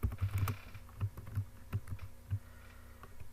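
Typing on a computer keyboard, a steady run of clicky keystrokes with short pauses between bursts, close and fairly clear with no talking.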